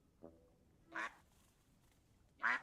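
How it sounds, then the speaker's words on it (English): Ducks in the cozy building game Tiny Glade give three separate quacks: a short soft one first, then two louder, nasal calls about a second and a half apart, alone over quiet background. "Let's pet the ducks."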